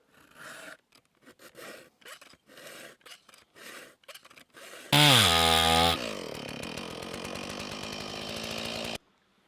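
A saw makes the last cut on an axe with a run of short rasping strokes, then a loud, steady whining power-tool buzz that holds for several seconds close by.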